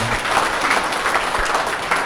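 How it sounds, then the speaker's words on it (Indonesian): An audience at an Indonesian seminar on paying off debt applauds in a steady, dense, loud wash of clapping that fills the whole short stretch without any talk. "tepuk tangan untuk Bapak Ibu semua"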